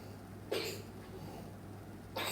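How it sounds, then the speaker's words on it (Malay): A five-month-old baby coughs once, a short burst near the mic, then another cough begins at the very end over a steady low hum. "Boleh dengar suara anak cikgu batuk-batuk kan."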